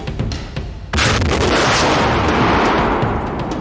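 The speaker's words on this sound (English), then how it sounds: "It fires a rocket carrying a 100-pound anchor which blasts into the bank" A combat engineer tractor fires a rocket carrying a 100-pound anchor toward a near-vertical riverbank, giving one sudden loud blast that swells into a long, roaring rocket rush.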